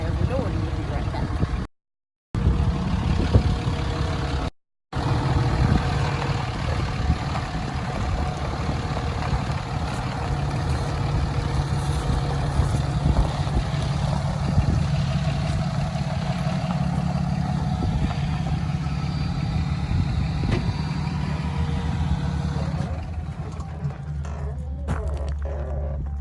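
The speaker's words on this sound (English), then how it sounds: "I turn my truck off because my truck's kind of loud" Pickup truck engine idling steadily for the whole stretch, a loud, near low rumble broken by two brief dropouts early on; a voice may be faintly present beneath it.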